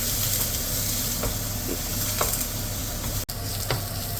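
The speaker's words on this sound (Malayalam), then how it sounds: "ഇതൊന്ന് നന്നായിട്ട് വഴറ്റിയെടുക്കുക. സവാള പെട്ടെന്ന് വഴറ്റി കിട്ടാനായിട്ട് കുറച്ച് ഉപ്പിടുന്നത് നല്ലതാണ്." Sliced onions sauté in hot oil with salt, giving a steady, close sizzle that runs throughout with occasional scraping stir strokes and brief clicks, with no talking.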